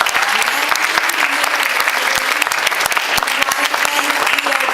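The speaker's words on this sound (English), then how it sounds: "Let's give a clap for this venue." An audience at a university TRiO programs luncheon applauds the venue, a steady, dense round of clapping from many hands filling the room throughout, with no voices on top.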